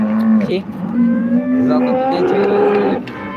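Several cows moo loudly and close by at a cattle market in Modnimb, their long low calls overlapping against a busy background of other animals and crowd noise.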